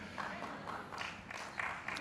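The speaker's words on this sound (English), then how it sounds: "that's the kind of applause I would have gotten when I was graduating" Applause from a Columbia Law School Class of 2022 graduation audience during a commencement speech, a soft, diffuse wash of clapping heard at a distance, steady and low in level without distinct individual claps.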